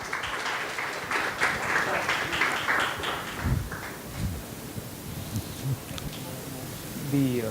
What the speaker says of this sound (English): So big round of applause for Mayur bhai.